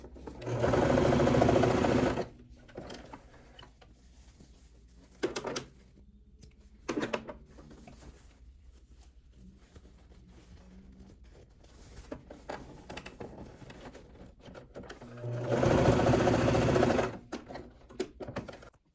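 A sewing machine stitches pleats into fabric. It runs in two loud bursts, one at the start and one near the end, with brief quieter stitching and handling of the material between them.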